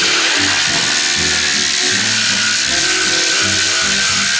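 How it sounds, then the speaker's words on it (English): A dual action sander with 80 grit paper grinds on a Mercedes-Benz S500 car body panel at low pressure, a loud, continuous harsh roar with a rapid pulsing flutter filling the whole stretch. "And I take my DA sander, I turn the pressure down low"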